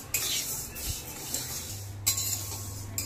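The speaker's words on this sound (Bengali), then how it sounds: "কলাইয়ের ডালটা বানানোর জন্য প্রথমে আমি এখানে 200 গ্রাম ডাল নিয়েছি, ভেজে নেব" Kalai lentils, 200 grams, dry-roasted in a pan, with a spatula scraping and rattling the grains against the metal in a few distinct strokes over a quiet background hum, no talking.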